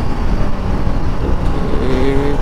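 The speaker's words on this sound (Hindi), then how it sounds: "ये दहाड़ मुझे RS की बहुत ज़्यादा पसंद आती है, ना कोई एग्जॉस्ट है ना कुछ है, बट रोर करता है उसका इंजन" Bajaj Pulsar RS200 motorcycle with no aftermarket exhaust, engine roaring steadily and loudly up close as it rides, a continuous low rumble with a rising tone near the end.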